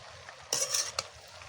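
Banana flower curry with salt stirred in a pan for a Bengali mocha dish with prawns: a brief burst of scraping and gentle sizzle, two close stirring strokes over a quiet kitchen background.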